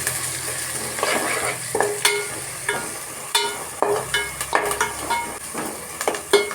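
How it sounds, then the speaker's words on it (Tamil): Curry leaves sauté in hot oil in a pan for anchovy fish curry, with a soft continuous sizzle broken by repeated sharp scrapes and clinks as a spoon stirs against the metal. "இந்த சமயத்தில் நம்ம கொஞ்சமாக கருவேப்பிலை போட்டு வதக்கி எடுத்துக்கலாம்."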